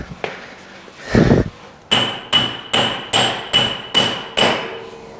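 An axle shaft seal installer is driven into place on a 2004 Ford F250 6.0L during a wheel bearing job: a heavy thump, then six evenly spaced, ringing metallic hammer blows, loud and close.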